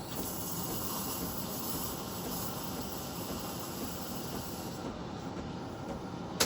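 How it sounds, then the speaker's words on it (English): A Breville steam wand runs with the milk jug lowered, giving a constant broad hiss that fills the clip at moderate loudness, with a range hood fan droning in the room and no talk. "if I raise it, drop my jug, it'll give me this hissing sound"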